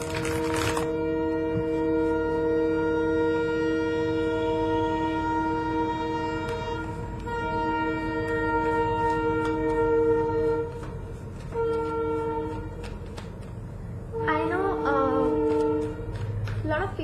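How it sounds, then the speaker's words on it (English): A train passes close by on a nearby railway line, its horn sounding in long sustained tones over a steady rumble for most of the stretch, with a few sharper bursts toward the end. "So because I often used to complain that my videos get interrupted because of the train"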